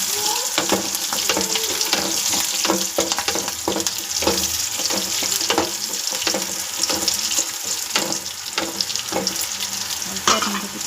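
Tempering roasting and frying in a pan for a village-style sprouted-gram sambar, a steady close sizzle with scraping and stirring knocks throughout, no talking.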